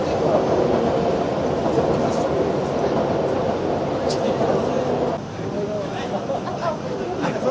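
A green JR line train in Tokyo rumbles steadily nearby, a loud continuous rolling roar that drops a little partway through, under crowd chatter.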